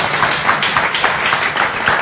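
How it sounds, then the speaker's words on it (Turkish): Audience applause in a Turkish television studio, fast rhythmic clapping from many hands, close and loud, with no talk over it. "Ne kadar az alkış attırdınız."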